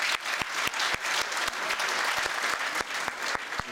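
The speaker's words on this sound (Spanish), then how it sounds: "Un aplauso." Audience applause breaks out to open an engineering month event at a university, dense steady clapping from a crowd with sharp individual claps standing out, fairly close and continuous throughout.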